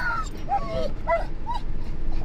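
An excited dog in a car makes a few short, high whimpers and yips over steady road and engine rumble. The sounds come at close range, and there is no talk.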